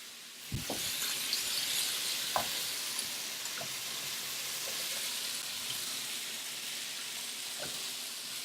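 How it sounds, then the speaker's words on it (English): Chunks of lamb being stirred in a pot for a simple stew, a steady hiss of sizzling with a few sharp knocks and scrapes of the spoon, close and moderately quiet. "We can stir the lamb in there."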